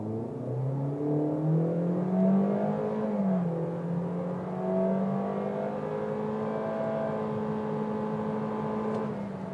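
A 2024 Toyota Corolla Cross XRE in normal mode with the air conditioning on pulls away from a standstill, its engine droning and climbing steadily in pitch, then leveling into a sustained, smooth hum as speed builds, heard from inside the cabin.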